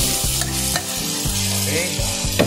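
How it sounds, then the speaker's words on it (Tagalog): Tomatoes fry in a pan for pork adobo, a loud continuous sizzle close up with repeated rhythmic stirring scrapes of a spatula. "Lutuin muna natin ng gusto yung ating kamatis."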